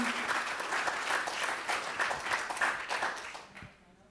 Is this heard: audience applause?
yes